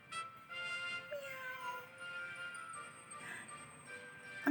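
A cat meows faintly a few times, its thin tonal cries rising over a quiet, slightly hissy room with no talking.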